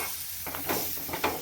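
Cooked pork dropped into a hot pan for Angamaly-style pork fry gives a soft, steady sizzle and hiss, with a few brief bursts of stirring and spattering close by.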